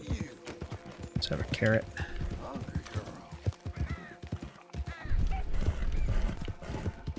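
Hooves of a horse in a video game clip-clop in a steady walking rhythm, with occasional whinnies, bird caws and other game sounds, while someone talks over it throughout.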